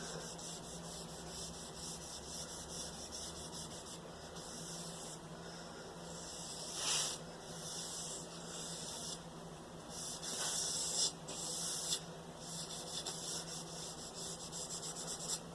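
A 3M abrasive pad rubs down the stained surface of a burnt wooden drawer front being resurfaced, giving a steady, close, hissing scrub with a few louder strokes toward the end, and no voices.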